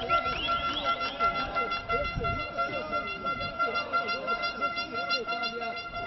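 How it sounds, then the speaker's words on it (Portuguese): A fan's small horn toots repeatedly in short bursts amid crowd noise at a Brazilian football match in the Presidente Médici stadium, heard alongside a commentator talking. "E a cornetinha, a buzininha tá mais agitada ainda."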